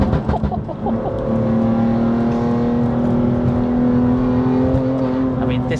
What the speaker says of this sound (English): No, you can really hear them spool.